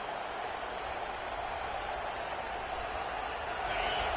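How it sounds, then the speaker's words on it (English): Stadium crowd noise in a college football video game, a broad, steady roar of cheering that holds evenly and swells slightly toward the end, with no clear voices on top. "Listen to this crowd just shaking the girders of this place, trying to help their defense."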